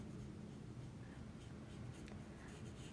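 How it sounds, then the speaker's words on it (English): A brush-tip marker scratches softly and steadily across paper during coloring, a faint, close, continuous scribble with no talk. "So I'm using the brush, and I am just going to color."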